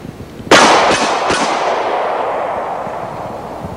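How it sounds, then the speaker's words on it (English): Handgun shots fired at an outdoor shooting demonstration: two or three sharp, loud, close reports in quick succession with a ringing echo decaying afterward and no talking. "But let's see the gun in action."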